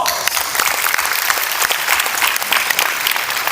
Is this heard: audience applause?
yes